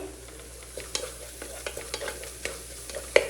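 Garlic and ginger frying in coconut oil, stirred with a utensil: a steady low sizzle broken by sharp irregular scraping taps, one louder knock near the end, no talk.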